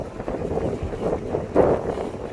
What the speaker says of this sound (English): I hope it's not too windy to hear me